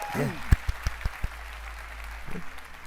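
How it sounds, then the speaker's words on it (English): A short burst of clapping and cheering from a crowd at the E3 2017 EA press conference, with a few sharp drumline hits standing out near the start before the applause trails off. "Round of applause for the drumline, guys."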